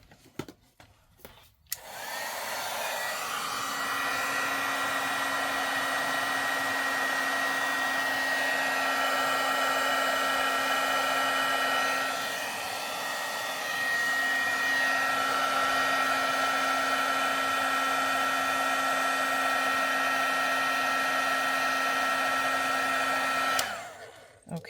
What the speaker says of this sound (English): now we're going to use our heat tool and set the powder